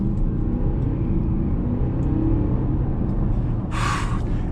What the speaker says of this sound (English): I'm now in sport and I'll just accelerate.